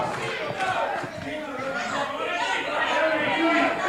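A wrestling crowd in a Detroit TV studio chants for the Sheik after a brawl with Stan the Man Stasiak in which chairs, a table and a can were thrown. The chant is a steady, loud mass of voices with no single voice standing out.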